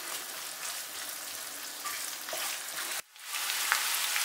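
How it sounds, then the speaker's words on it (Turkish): Minced meat and chopped onions sauté in a hot pan, giving a steady bright sizzle with a brief dip near the three-second mark as they are stirred, then the hiss resumes. "Önce kıymayla birlikte soğanlar yumuşayıncaya kadar kavuracağım."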